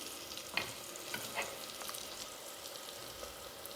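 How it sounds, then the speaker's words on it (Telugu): Vegetables for vegetable rice fry in hot oil while being stirred, a steady close sizzle broken by a few sharp scraping clicks of the spoon against the pan. "వీటిని ఒకసారి కలుపుకుందాం. ఇవైతే ఆయిల్లో ఫ్రై అయిపోయాయి."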